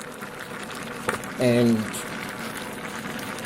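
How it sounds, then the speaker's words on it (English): Fig jam syrup boils in a pot with a low, steady bubbling, briefly interrupted by a short spoken word partway through. "You can see how much steam is coming off depending on how fast you boil it"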